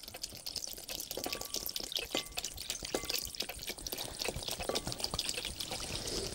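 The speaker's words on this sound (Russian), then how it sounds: "И теперь наш солист, коньячок. Выливаем его полностью." Cognac is poured into a bowl of eight egg yolks, sugar and vanilla in a home kitchen, giving a faint, continuous liquid trickle and splash with a few soft clinks along the way.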